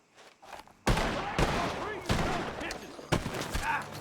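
Gunfire from a barn in the video game Red Dead Redemption 2: loud, close shots ring out in a rapid irregular volley, with voices heard between them.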